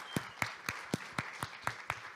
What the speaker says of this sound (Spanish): Dale nuevamente un fuerte aplauso al Señor.